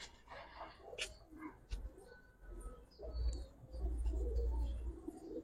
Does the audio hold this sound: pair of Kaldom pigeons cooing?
yes